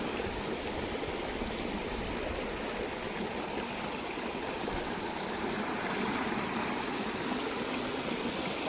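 Water rushes steadily at a dam during net fishing, a dense continuous roar that stays loud and even throughout, with no voices.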